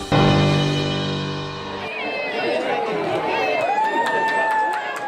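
Excited crowd at the Miss Coco beauty pageant, a loud, dense mix of cheering and shouting voices that swells right after a short stretch of tonal music and stays steady to the end.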